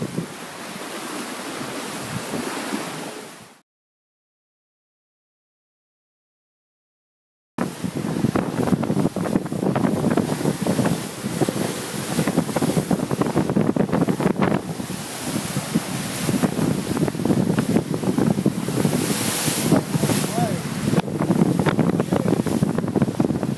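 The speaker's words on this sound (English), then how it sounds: "The waves are big, which means that it's blowing hard out there." Large ocean waves wash and surge around a sailboat racing across the Pacific toward Honolulu, while strong wind buffets hard and close, with a short silent gap early on.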